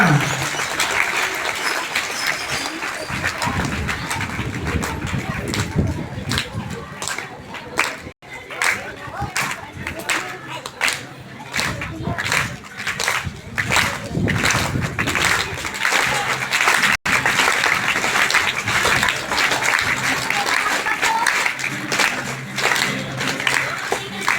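Sustained clapping at a government primary school's Independence Day event, with many hands applauding fairly close by in dense waves that rise and fall over about twenty seconds, and some voices mixed in.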